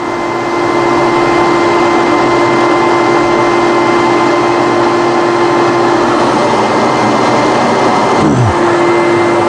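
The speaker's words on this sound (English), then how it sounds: "Turn my exhaust off." A workshop exhaust fan gives a loud, steady mechanical roar with a constant hum throughout, then a falling whine near the end as the motor winds down.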